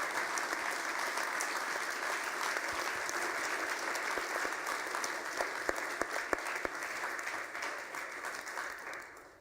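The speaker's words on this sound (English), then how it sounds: "Let's give an applause for the panel, as well as all the speakers who have been giving these presentations for you." A conference audience applauds the GWT.create 2015 steering committee panel and speakers, a dense sustained round of clapping with some sharper individual claps standing out before it tapers off at the end.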